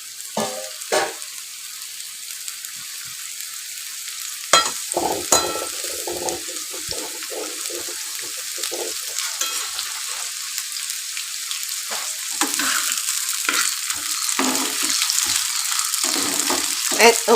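Thinly sliced pumpkin pieces frying in a pan, bursts of loud sizzling broken by repeated spatula scrapes and stirring clatter, growing denser toward the end; no talking.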